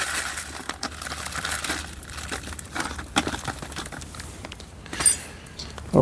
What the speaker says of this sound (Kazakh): Енді біз карбамидті шелекке аударамыз